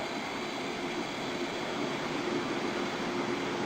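A train in the Open Rails simulator rolls steadily into a station platform, a continuous broadband rumble of wheels and carriage noise at a constant, fairly loud level throughout.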